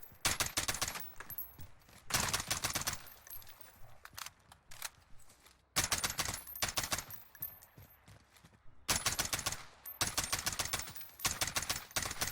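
Rapid bursts of gunfire from aim practice in the video game Warzone, sharp repeated shots in clusters separated by short pauses, loud and close with no talking.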